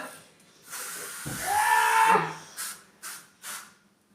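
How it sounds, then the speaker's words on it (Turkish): Pepper spray hisses in a sustained burst lasting about a second and a half, then fires in three short, sharp spurts, close and fairly loud with no talking. "Biber gazı. Hayır ağzıma sıkıyor."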